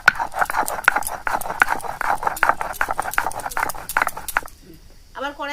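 Poppy seeds being ground into a paste make a steady run of rhythmic scraping and knocking strokes, close and fairly loud, which stop near the end as a voice briefly comes in.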